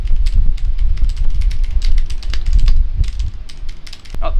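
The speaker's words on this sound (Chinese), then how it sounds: "我拿自己的键盘打的声其实蛮大的，所以这一次我就买声音比较小的键盘" Rapid typing on a Cherry MX Board 3.0S keyboard with red switches, a steady run of close, soft key clacks with quick uneven rhythm and no talking.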